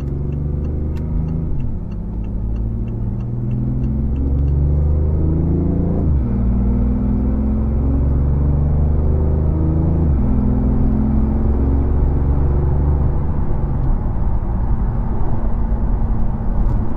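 A BMW i8 hybrid sports car drives on a road and gathers speed, its engine note rising in steps with gear changes over a steady loud rumble of road and cabin noise, heard from inside the car.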